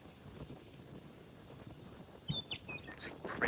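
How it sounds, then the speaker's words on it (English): A few faint, high bird calls in a remote, windy grassland on a cross-country road trip toward Yellowstone. Soft chirps come through late, over steady wind noise and rustling grass. "You hear the birds and"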